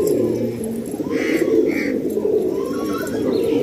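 Fancy pigeons in a loft setup cooing nearby, soft throaty rolling coos repeating over a low steady background, with no talk.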